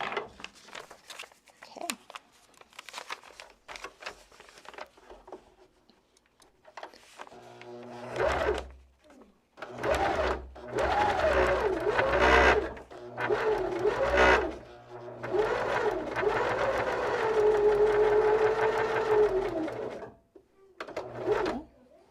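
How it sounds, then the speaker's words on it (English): A sewing machine stitching a paper-pieced quilt block, its motor whirring in steady runs of several seconds with brief pauses, close and clear, with some quiet talk. "Did one back stitch, pull it out from the machine, snip those threads"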